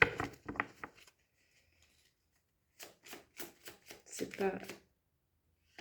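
Tarot cards are shuffled and drawn in crisp bursts of papery flicks and slaps, first a short flurry, then after a pause a longer run of riffles; a voice speaks in French in between.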